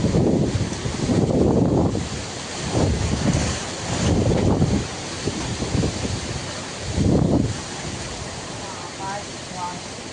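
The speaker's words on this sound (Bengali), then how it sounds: "হালকা হালকা বৃষ্টির সঙ্গে ঝোড়ো হাওয়া প্রচণ্ড পরিমাণে হচ্ছে" Strong stormy gusts with light rain batter an outdoor microphone under a cloud-covered sky, the rumbling wind swelling and fading in repeated loud surges close by.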